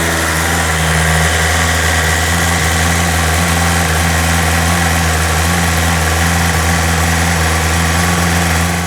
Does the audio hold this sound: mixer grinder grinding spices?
no